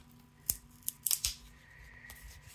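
Sharp crafting scissors make a few quick snips one after another, close and crisp, against a quiet room with no talking.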